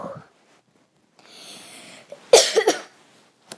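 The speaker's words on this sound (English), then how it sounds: "I've still got a little bit of a cough." A person coughs a few times in a tight cluster, close and fairly loud, after a breathy hiss and a short vocal sound, in an otherwise quiet room.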